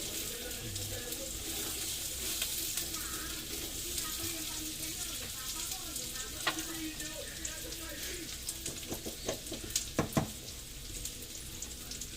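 Oil heating in a pan for frying tilapia gives a low, steady sizzle and faint crackle, with some watery splashing and a few sharp clinks near the end, fairly quiet and close.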